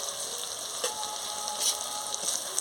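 Spices and chilli powder frying for a Bengali goat meat curry, a steady close crackling sizzle with a few louder pops as the masala is stirred in the pan.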